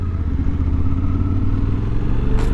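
A 2023 Suzuki V-Strom 800DE motorcycle engine runs as a steady, loud low rumble at constant speed, close up with wind noise and no talk.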